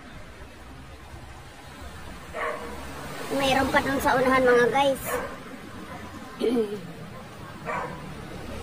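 A dog barks and yips agitatedly a few times at moderate distance, while someone talks over outdoor background noise.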